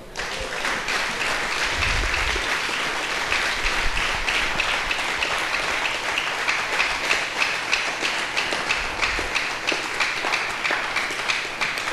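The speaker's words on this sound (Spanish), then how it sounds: "Bríndale un aplauso al Señor." A church congregation applauds steadily after a call to praise the Lord, a dense, even patter of many hands sustained for about twelve seconds with no talk over it.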